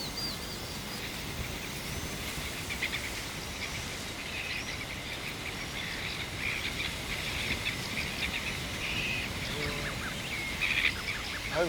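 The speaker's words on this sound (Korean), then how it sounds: "이렇게 소중하게 만난 새들의 소리를 직접 담아보기로 했습니다" Wetland birds at Maehyang-ri chirp and call in scattered bursts over steady wind and rustling reeds, fairly faint and spread across the open marsh.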